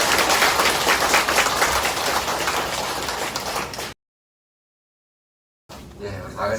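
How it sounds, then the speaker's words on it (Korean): A church congregation gathered for a Sunday dedication service claps together, a loud, dense patter of many hands for several seconds, then a sudden silence before faint room sound returns. "우리 먼저 우리 하나님께 영광의 박수"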